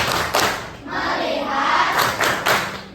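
A primary school class does the tepuk fokus clapping game, with sharp bursts of many hands clapping together in rhythm and group chanting between the claps.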